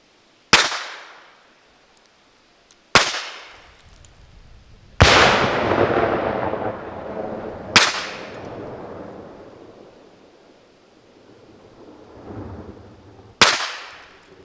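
Loud gunshots fired outdoors during a shooting session, five sharp blasts spaced irregularly, each trailing into a long rolling echo.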